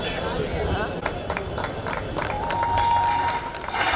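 Audience clapping at a Shrimali community gathering, a steady wash of applause from a crowd with a voice speaking over it.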